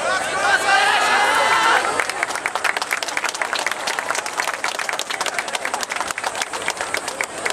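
An outdoor audience at the Yosakoi Hikarigaoka 2017 yosakoi dance event claps along in a steady, fast rhythm that stays even and continuous; a voice speaks briefly over the crowd at the start before the clapping takes over.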